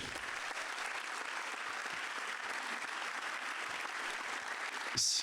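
An audience at an awards ceremony applauds a production coordinator, a steady, even round of clapping that carries on throughout, with a brief louder burst near the end.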